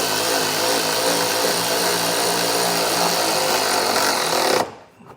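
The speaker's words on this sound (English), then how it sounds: "You can use a ratcheting wrench here just because it's kind of narrow." Ratcheting wrench with a 17mm socket tightening trailer hitch bolts on a 2016 Kia Soul, a dense, loud, continuous mechanical clatter close by that stops abruptly near the end.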